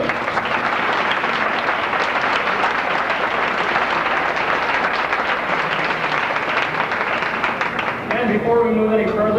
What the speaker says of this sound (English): A big round of applause for our queen right now,